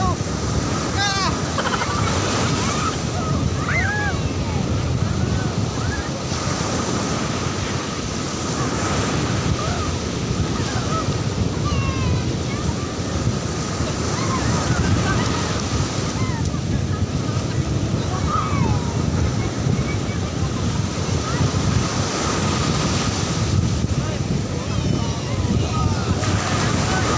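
Ocean surf rolls and breaks continuously at Patar Beach in Bolinao, Pangasinan, a loud, broad wash mixed with gusty wind buffeting the microphone, with faint voices at times.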